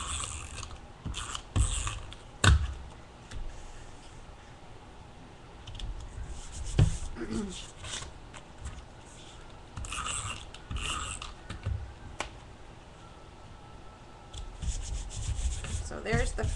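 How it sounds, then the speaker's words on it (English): A Quick Fix adhesive runner lays tape as paper pieces are pressed onto a decoupage canvas layout: soft rubbing and ratcheting clicks come in irregular bursts with sharp taps between, close and fairly quiet. "I'm going to use the Quick Fix adhesive runner to get these down"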